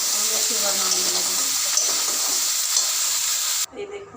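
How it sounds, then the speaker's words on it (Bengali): Dry stalks frying in a pan, a steady bright sizzle that runs continuously at close range and then cuts off sharply near the end, leaving faint clinks. "শুকনো ডাঁড়া লাল লাল করে ভাজা হয়ে যাচ্ছে"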